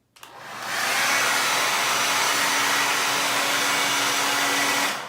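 Hair dryer with a diffuser switched on at full flow on the hot setting to dry a wig, a loud steady roaring whoosh starting abruptly and holding constant up close until it cuts off, no speech.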